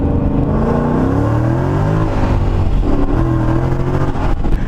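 A Procharged 650 hp Ford Mustang GT pulls hard in first gear, its engine note rising loud and close with a whining supercharger, dipping briefly before climbing again.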